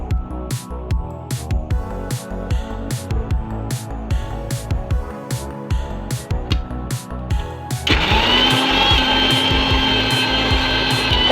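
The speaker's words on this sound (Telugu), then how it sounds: "ఒక మిక్సీ జార్ తీసుకొని మిర్చి, ఉల్లిగడ్డ, ఎల్లిపాయలు వేసుకొని ఒకసారి గ్రైండ్ చేసుకోవాలి." A mixer grinder jar loaded with green chilies, onion and garlic is pulsed in short, loud, rhythmic bursts, then runs into one continuous high whirring grind for the last few seconds, with no voices.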